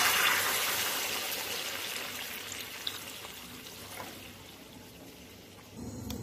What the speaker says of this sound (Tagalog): Yan, ilagay na natin ang tubig.